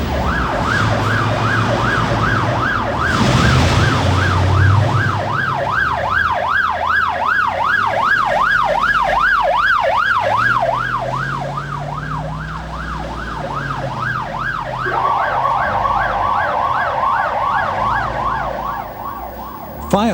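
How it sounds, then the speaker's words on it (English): Fire engine sirens blare continuously as the trucks race to an emergency scene, a loud, steady wailing cycle that shifts to a faster, higher yelp partway through, over rumbling road and engine noise. "With their sirens blaring and blue lights flashing, they waste no time on their way to the scene."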